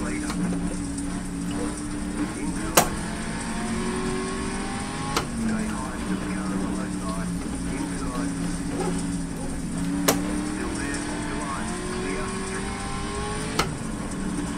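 Race car engines drone steadily through a sim race in the iRacing game, a continuous layered hum of several cars with shifting pitch and a few sharp short clicks, loud and constant with no talk.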